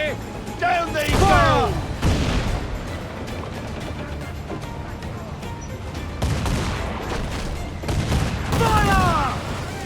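Ship cannons fire in rapid volleys during a naval battle in Assassin's Creed 4 Black Flag, heavy booms recurring across the clip with crashing impacts, while crew voices shout over the gunfire.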